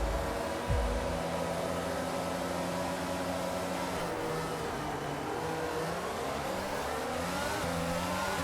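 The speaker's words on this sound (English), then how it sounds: "I think we had a bit of wheel spin directly off the line there." Race car in a racing video game spinning its wheels off the start line, a loud, close engine roar with a rising and falling whine as revs sweep up and down, steady throughout with no voices.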